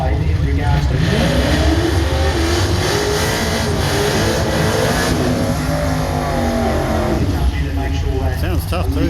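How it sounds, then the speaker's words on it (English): A radial-tire drag race car engine revs hard at an eighth-mile drag strip, loud and continuous with repeated rising and falling revs throughout. "Sounds tough too. Lots of revs there."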